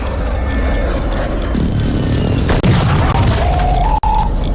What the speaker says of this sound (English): Target marked. Request fire mission. Copy that. Phoenix 2-3 is on station. Strike inbound.